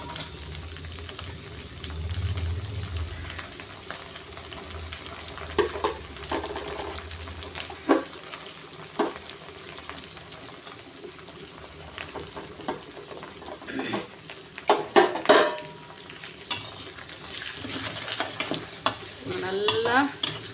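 Chopped onions frying in oil as a spoon stirs them, a steady sizzle with repeated scraping and clinks against the pan, growing busier toward the end.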